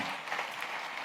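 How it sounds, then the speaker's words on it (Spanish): A church congregation claps steadily together, a dense, even patter of many hands sustained throughout the short moment. "Dale esas palmas también con libertad."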